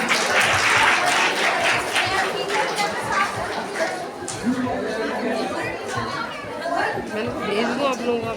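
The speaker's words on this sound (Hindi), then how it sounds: "और बच्चों आपकी तालियां रुकनी नहीं चाहिए" Children applauding at a school annual function, a dense sustained clapping from a crowd mixed with chatter and voices, loud and continuous throughout.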